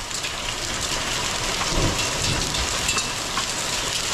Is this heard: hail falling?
yes